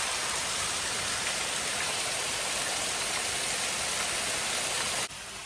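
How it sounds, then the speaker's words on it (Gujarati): Steady, heavy rain pours down in a midday monsoon downpour at a village cattle shed in Gujarat, a dense continuous hiss that stops abruptly near the end. "વરસાદ જો કેવો અવાજ આવે"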